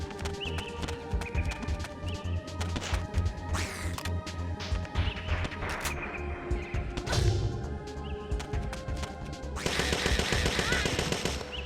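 Gunfire in Parasite Eve II: repeated sharp shots crack out in quick bursts over busy game noise and impacts, with a louder stretch near the end.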